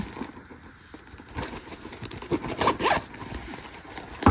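A zipper on a sewn clutch bag pocket is drawn open in short, quick rasping pulls, close by, mixed with light rustling and handling of fabric.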